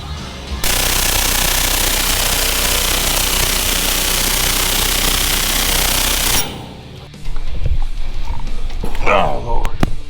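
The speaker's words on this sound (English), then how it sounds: "I really want to get the air hammer out yet this morning" A loud, continuous rapid hammering from a pneumatic air hammer working on a 1986 Dodge D150 pickup runs steadily for several seconds, stops abruptly, then bursts of clattering and knocking follow.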